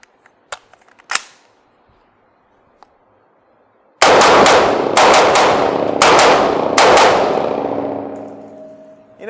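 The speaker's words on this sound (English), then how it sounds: "now we're going to actually go into the firing portion of shooting the MK18" An MK18 Mod 0 rifle fires a rapid string of loud, close shots with metallic ringing, the reverberation decaying after the final rounds, preceded by a few faint handling clicks and no talk.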